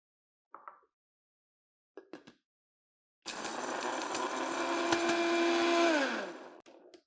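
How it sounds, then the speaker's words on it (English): Electric grinder blending spices finely runs for about three seconds with a steady whirring roar that winds down at the end, preceded by a few brief taps and handling sounds. "Transfer them into a grinder and blend everything finely."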